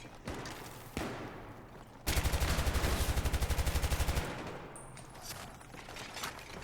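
L86 light machine gun firing in Battlefield 3 close-quarters gameplay: a rapid sustained burst of about two seconds, preceded by a few single shots and followed by distant game gunfire and ambience.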